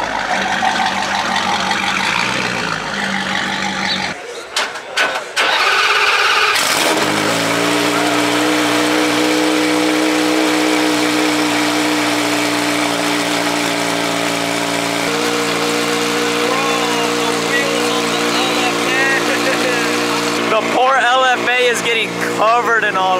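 An Aston Martin V12 Speedster at a supercar show starts up and settles into a steady idle, its engine tone sustained and fairly loud throughout, with crowd noise and a brief rustling burst early on.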